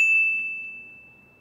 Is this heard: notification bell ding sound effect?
yes